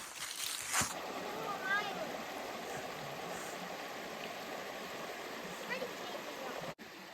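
Steady rushing of a river flowing past a trail campsite in tall forest on the Foothills Trail near Whitewater Falls, a continuous broadband wash under brief speech.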